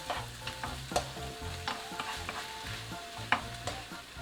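Ham and vegetables stir-fry in a pan with seasoning and a little oligosaccharide syrup: a steady sizzle with repeated scraping and clacking strokes of the utensil, a faint tonal hum running underneath.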